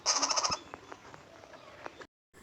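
Injured bird that fell from above, a quick run of about six repeated calls at close range, followed by scattered faint clicks and rustles before a brief drop to silence.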